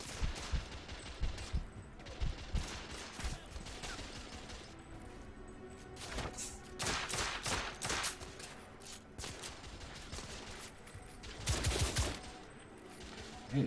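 Shotgun blasts in the video game The Order: 1886, a series of loud, sharp reports in clusters amid ongoing game noise, with a heavy burst near the end.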